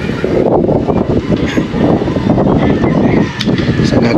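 Strong outdoor wind buffeting the microphone, a loud, continuous low rumble that swells and dips slightly, with faint higher rattles on top and no speech.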